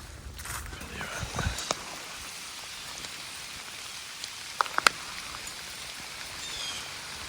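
Rain falling in the woods during a whitetail deer hunt, a steady soft patter with scattered nearer drops and a few sharp ticks, and a faint voice in the background.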